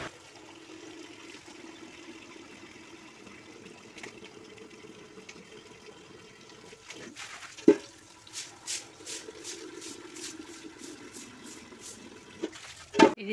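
Water washes a courtyard floor: a low running trickle, then splashes and a rapid series of rhythmic swishes, with a couple of louder sloshing bursts.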